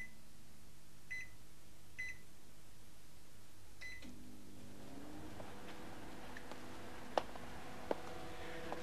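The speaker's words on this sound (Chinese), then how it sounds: "安装有时间制的微波炉，时间到就会通知我哋。" A microwave oven's timer sounds a few short, separated electronic beeps near the start, faint against a quiet room hum.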